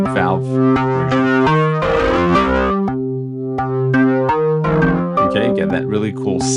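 An instrument played through the Arturia FX Collection 4 distortion plugin, in op-amp or valve mode, holds loud sustained tones and chords that shift in pitch and run for several seconds.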